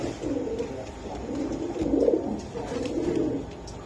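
Pigeons, including Pakistani teddy and garra breeds, coo in low, soft, rolling phrases, several overlapping swells repeating close by with no talking.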